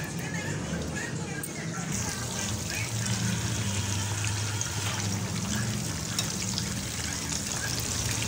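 Fish fingers frying in a pan in a home kitchen, a steady, dense sizzle and crackle running throughout, close and continuous.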